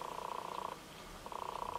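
A tomcat purrs softly up close, a low rhythmic rumble that pauses briefly in the middle before resuming, quiet and alone.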